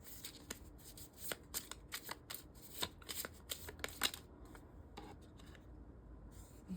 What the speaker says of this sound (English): I'll pull some animal cards for you, and maybe they'll have some symbolic meanings.